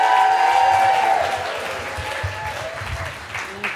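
A theater audience at a live storytelling show applauds warmly, steady clapping that gradually tapers off, alone without speech.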